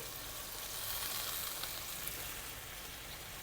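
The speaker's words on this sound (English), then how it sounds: "Now we'll slide in our tofu." Soft tofu slides into a simmering mushroom, onion and chicken sauce for a Chinese braise, giving a steady, close sizzle and bubbling hiss that runs without pause.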